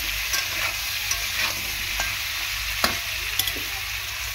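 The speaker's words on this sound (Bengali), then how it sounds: "লবণ দিয়ে পেঁপে আর আলুটাকে ভালো করে কষিয়ে নেব।" Papaya, potato and tomato fry in a pan with salt while being stirred, a soft steady sizzle running throughout with occasional light scraping clicks of a spoon.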